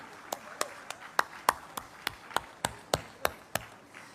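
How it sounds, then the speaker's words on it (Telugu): Sparse, sharp hand claps at a party gathering for a women's empowerment resolution, a dozen or so separate strikes spaced evenly over a faint room hum, more like a few people clapping than full applause. "చప్పట్లతో ధన్యవాదాలు తెలియజేసుకోవాలని కోరుకుంటా ఉన్నాను"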